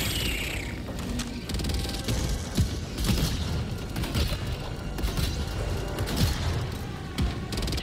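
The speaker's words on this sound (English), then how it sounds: "Look at my mortar killing it" Mortar strikes in the Helldivers 2 video game, a dense run of booming explosions and rumbling impacts rolling on without pause, with battle clatter layered in.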